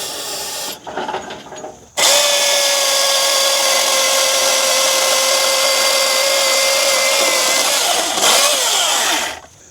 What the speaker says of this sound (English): really a very formidable little chainsaw. 16-inch bar, runs off an 18-volt battery